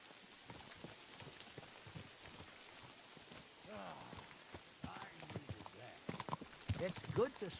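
Horse hooves clip-clop steadily in the video game Kingdom Come: Deliverance 2, growing louder and more distinct toward the end, under faint ambient game sound and voices.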